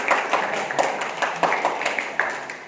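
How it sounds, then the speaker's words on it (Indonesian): Scattered hand claps ring out from a small audience at a pesantren module dissemination session, fairly quiet and uneven, with individual claps standing out. "Saya kasih tepuk tangan dong untuk Bapak Atta."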